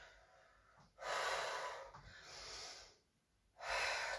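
Heavy breathing during an arms and abs crunch workout: two loud, forceful breathy exhales, separated by a softer, drawn-out breath, close to the microphone.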